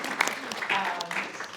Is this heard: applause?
yes